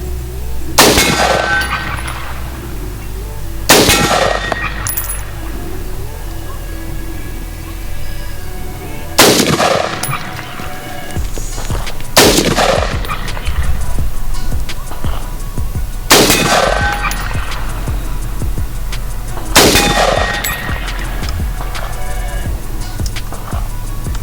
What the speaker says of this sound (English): Now I'm shooting it still